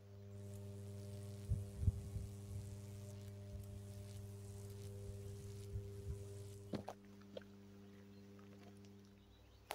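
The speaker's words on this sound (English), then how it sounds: "I don't know if that buzz is still coming through from the power station" A low steady electrical hum from a nearby power station and pylons runs faintly throughout outdoors, with soft thumps and handling noise early on and a brief clunk near the end.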